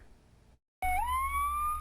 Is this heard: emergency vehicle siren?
yes